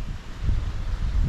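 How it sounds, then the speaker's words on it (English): Steady wind buffets the microphone in Bali with a low, continuous rumble and hiss, loud and close, with no other sounds standing out. "It's too windy here, but it's amazing."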